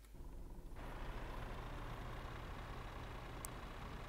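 Truck engine in Euro Truck Simulator 2 running at a low steady drone, faint and constant after a brief quieter start, with a small hiss near the end and no talking.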